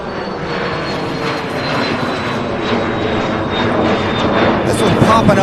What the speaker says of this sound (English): it is a 5-year-old Embraer Phenom